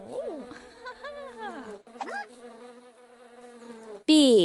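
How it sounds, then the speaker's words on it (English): A bee's buzz bursts in loudly and abruptly at the very end, following a stretch of other playful tonal animal sounds. "Bee."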